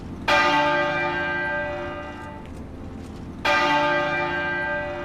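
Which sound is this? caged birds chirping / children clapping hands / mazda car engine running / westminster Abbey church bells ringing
westminster Abbey church bells ringing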